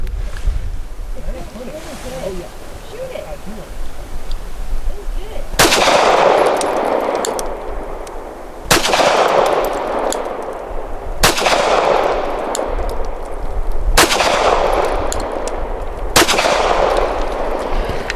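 Five sharp Canik METE SFX pistol shots ring out at an outdoor range after a stretch of quieter background and voice, fired at an irregular pace with each report trailing off into a brief echo.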